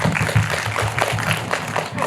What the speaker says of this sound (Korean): 박수를 한번 드리죠